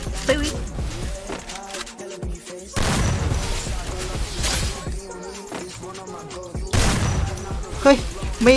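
Gunfire in the video game Free Fire comes as loud bursts of rapid shots and booming blasts, separated by brief lulls, with a voice heard alongside.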